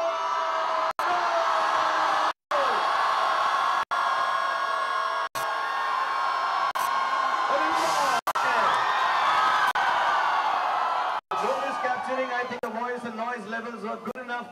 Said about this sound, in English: Now everybody scream the name of the character.